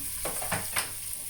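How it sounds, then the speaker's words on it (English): Chopped vegetables sizzle in olive oil for minestrone, with a few quick stirring scrapes in the pan over a soft, steady frying hiss. "while those veggies are cooking"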